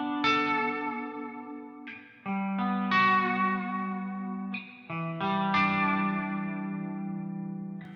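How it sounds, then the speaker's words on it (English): Clean electric baritone guitar (Aria Pro Jet Baritone) on the bridge pickup through a Raven amp, playing a few ringing chords and notes, bright and moderately loud with light reverb, each strum decaying before the next. "let's first take a listen at the clean tone."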